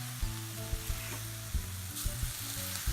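Masala for cauliflower peas masala sizzling in a pan while being stirred, with steady frying hiss and repeated sharp scraping and clinking of the spoon against the pan, close and alone.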